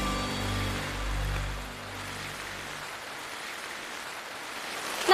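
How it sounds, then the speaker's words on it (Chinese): Sudden heavy rain pours down outdoors in Shanghai as a steady, dense hiss with a low rumble fading early on, and no voices. "大雨真的是， 这个雨有点突然啊"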